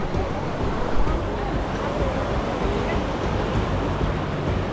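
A stream at a river crossing near Kalu waterfall rushes loud and continuous, a dense broadband roar of flowing water close by, roughened by wind on the microphone.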